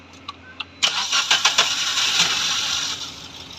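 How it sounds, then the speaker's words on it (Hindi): A Maruti Suzuki Swift with a check-engine fault cranks in a few quick clicks, then its engine catches on only two cylinders and settles into a rough, uneven idle, close and loud. "दो सिलेंडर पे स्टार्ट हो गई"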